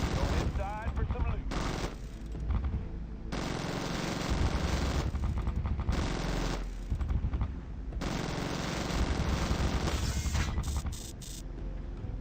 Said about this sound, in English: I appreciate that the minigun fires explosive rounds